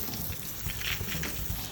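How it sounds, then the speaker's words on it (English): A garden hose sprays water over a half-built BMW E36 M3 engine to rinse it, giving a steady, close hissing splash with no voices. "my half-built engine I got to spray with the garden hose"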